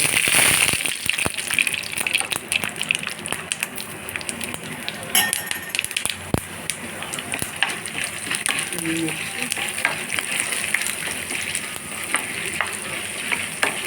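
Mustard seeds and tempering spices frying in hot oil in a pan, a dense crackling sizzle with sharp pops running throughout, fairly close and steady.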